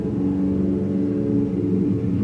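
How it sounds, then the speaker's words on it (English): Loud, steady engine rumble of a motorcycle driving by outside, close enough to fill the whole stretch with a continuous low growl and slight revving, with no talk over it. "There's like a motorcycle outside."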